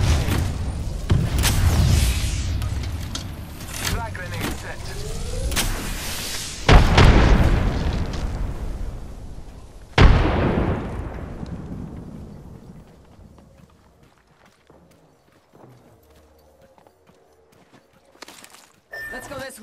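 Grenade blasts in the video game Apex Legends, several loud booming detonations with long rumbling decays and crackling debris, mixed with gunfire and shouted character voices, fading to quieter sounds near the end.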